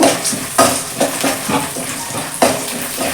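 Roasted gram and dry red chillies fry in a pan for a North Karnataka puffed-rice snack, with a soft sizzle under repeated rhythmic scrapes and clinks of a spoon stirring against the metal.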